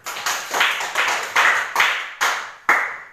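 Schoolchildren in a classroom clap hands together in unison, about six sharp, close claps in a steady, evenly spaced rhythm.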